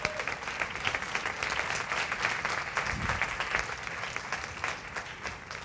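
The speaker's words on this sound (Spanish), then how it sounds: "Dale un aplauso a Dios por eso." A church congregation claps together in a sustained round of applause, a dense patter of many hands at moderate distance that runs the whole time.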